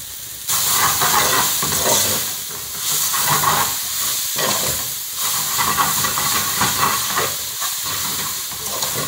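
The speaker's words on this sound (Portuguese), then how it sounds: "Couve refogado" Collard greens with garlic and a generous pinch of salt hiss and sizzle loudly and continuously while being sautéed in a pan for feijão tropeiro, a dense steady crackle throughout.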